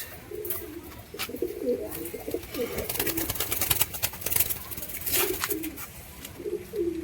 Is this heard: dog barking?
no